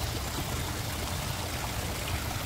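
Water flows steadily in a wishing fountain by a bridge, a continuous, even splashing rush of moderate loudness that holds unchanged throughout with no voices.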